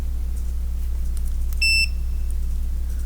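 A single short, high electronic beep from a continuity tester sounds once over a steady low hum, then fades out.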